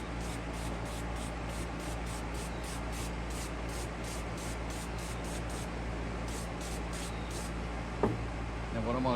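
Steady hiss of an aerosol cleaner spraying continuously onto a metal part before priming, with a faint clunk near the end.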